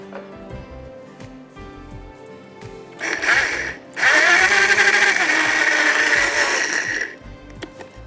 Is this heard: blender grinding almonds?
yes